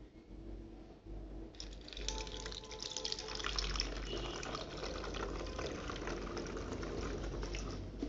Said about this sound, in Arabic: ونبدأ بصب الخل إلى ربع الزجاجة تقريبا كما ستشاهدون